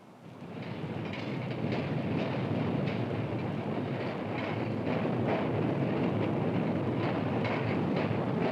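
A rapid transit train rolls along steadily with a continuous rumbling roar and faint clickety-clack of wheels over rail joints, loud and close throughout with no voices.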